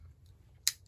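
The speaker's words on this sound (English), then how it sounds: "So I'm going to just go ahead and use the scissors to cut this down to size." Scissors snipping through thick paper for junk-journal cards, two sharp crisp cuts near the end after a quiet stretch, close and clear with no talking.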